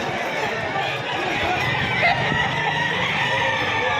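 Gamefowl roosters crowing among a large flock of chickens at a fowl sale, with dense clucking and crowing layered under a constant murmur of people talking nearby.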